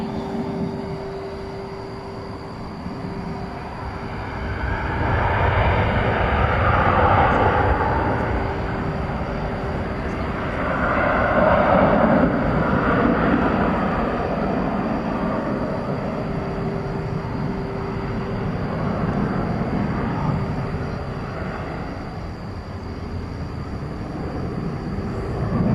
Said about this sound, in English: Here comes American 509. It's going to Sacramento. It's an Airbus A321.